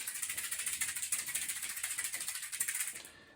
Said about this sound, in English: what I usually do is I shake my rattle around like this